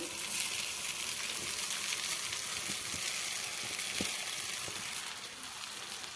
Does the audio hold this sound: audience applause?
no